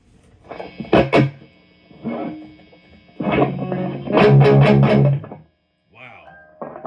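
Electric guitar played through the crunch channel of a Mesa/Boogie Mark V amplifier: a series of loud, gritty distorted chord stabs and strums, with a sustained crunchy passage that cuts off abruptly, then a few quieter single notes.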